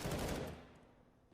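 A rapid burst of MP9 and hand cannon gunfire in a Counter-Strike match on Mirage, loud at first and then trailing off into a fading echo.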